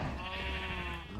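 A sheep in a video game bleats in a wavering, nasal call that lasts about a second. It sounds close and moderately loud over a low background hum.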